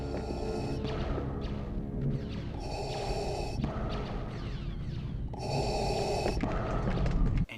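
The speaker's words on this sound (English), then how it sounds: "And that classic iconic breathing." Darth Vader's mechanical breathing from Star Wars: A New Hope, a slow rasping respirator cycle of alternating inhales and exhales, repeated several times, close and loud, with a low hum underneath.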